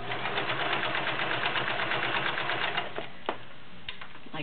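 A vintage Kenmore 1336 convertible free-arm sewing machine stitches through five layers of denim, running at a steady fast mechanical whir for about three seconds, then slowing and stopping with a few faint clicks.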